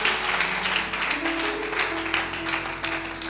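A church congregation applauding, a dense, steady wash of clapping hands with faint sustained instrumental tones underneath.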